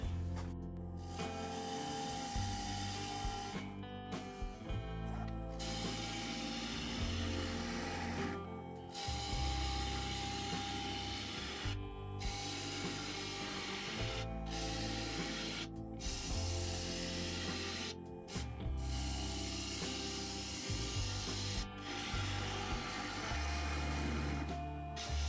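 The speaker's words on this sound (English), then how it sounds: "After a couple of minutes of turning, I like to re-tighten on the tenon" Gouge cutting into a maple lidded vessel spinning on a wood lathe, a steady loud scraping whir with a low motor drone, broken by several brief pauses as the tool lifts off the wood.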